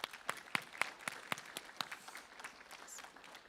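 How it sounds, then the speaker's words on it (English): Faint, scattered applause from a small audience at a school arts awards ceremony, a handful of distinct sharp claps thinning out over a few seconds. "Give these guys a round of applause"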